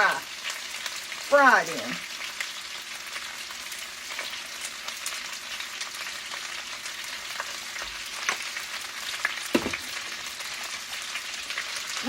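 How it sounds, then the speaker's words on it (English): Potatoes and ham frying in olive oil, a steady, soft sizzle with crackle throughout, plus a brief clatter of utensils early on and a few light knocks; a short spoken phrase is heard. "I like to let it fry. I like to let mine fry just a little bit for a few minutes."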